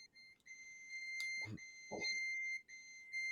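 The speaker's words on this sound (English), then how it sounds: "And then it doesn't stop beeping." A steady, high electronic beep tone sounds continuously with brief gaps, quiet and close, broken by a couple of soft thumps.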